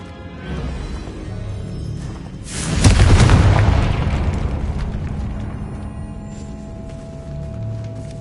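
A Confringo blasting spell erupts in a video game: one heavy, booming explosion hits near the middle, then a long rumbling roar slowly fades over steady background noise.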